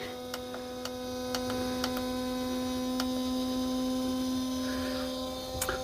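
A Vevor 2kW diesel heater runs with a steady low electrical hum, and sharp ticks come at irregular intervals over the drone.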